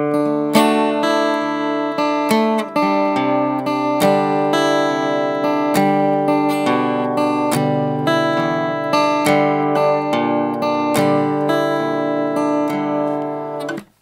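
Guitar played slowly in the strum pattern of a song, cycling through four chords. Steady, ringing strums carry on without a break for the whole stretch, with no talking.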